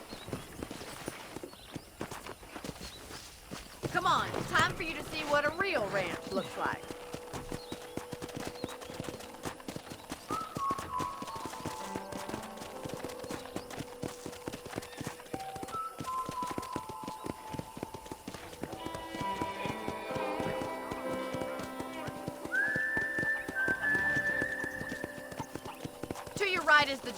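Horse hooves clip-clop at a steady walking rhythm on a ranch in the video game Red Dead Redemption, with an occasional whinny, under ongoing talk between characters and a soft musical score.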